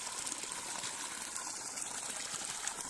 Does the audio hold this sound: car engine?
no